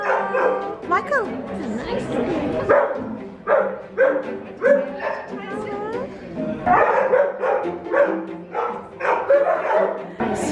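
Therapy dogs at Guide Dogs NSW/ACT bark, yip and whimper in repeated close bursts, mixed with people talking nearby.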